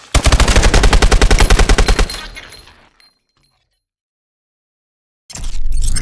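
Rapid automatic gunfire from a first-person shooter video game, a dense burst of loud, evenly spaced shots for about two seconds, fading into a ringing tail, silence, then another loud crash of shots.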